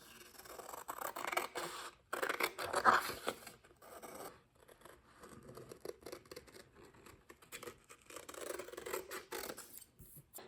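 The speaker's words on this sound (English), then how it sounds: "the rest I'm going to do with my scissors" Scissors snip through a thin acetate sheet in a series of short crisp cuts, with brief pauses between strokes, close up and fairly quiet.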